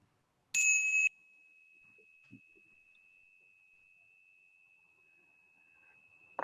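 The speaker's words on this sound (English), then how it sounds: "I would like to bring the happiness and good health to all of you through a double bell sound." A double strike on a bell at a university meeting in Hong Kong: a loud, bright first hit followed by a long, steady ringing tone that fades slowly over several seconds, with little else audible.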